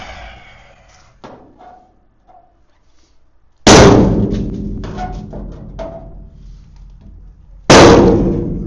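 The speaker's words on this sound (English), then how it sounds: "so we're going to punch the middle of the marking." Two sharp metallic strikes a few seconds apart as a hammer hits a center punch on a marking, each ringing out and decaying, with quieter clinks and handling noises between them, during a powder coating oven build.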